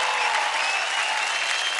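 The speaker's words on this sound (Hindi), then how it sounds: "Come on guys, जोरदार ताली हो जाए सनम के लिए।" Steady, dense applause from a dance show audience cheering for dancer Sanam, loud and continuous throughout with no voices standing out.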